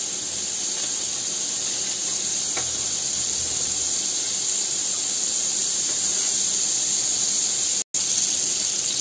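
Butter and oil sizzle steadily in a kadhai while pav bhaji is being cooked, a bright continuous hiss at close range, unchanging in loudness, with a momentary dropout near the end and no talking.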